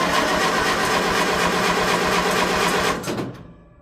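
An old tractor engine cranks and runs on choke for its first start of the year, a loud, steady mechanical chugging that holds for about three seconds, then cuts off and dies away into silence.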